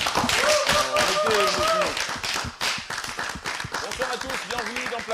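Crowd at a jazz performance clapping steadily, a thick wash of claps running the whole time while a person talks over it.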